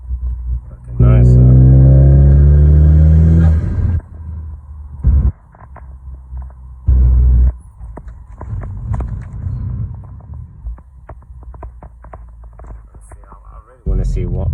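A Vauxhall Astra J VXR engine revs up loudly with a deep rising drone, then drops to softer rumbling and vibration, with short renewed bursts of revving and a voice speaking quietly between.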